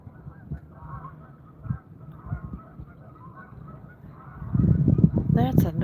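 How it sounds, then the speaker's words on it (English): Scattered distant geese honking, then a louder, close flurry of honks near the end, with some low background noise. "Found the geese. There's geese over there"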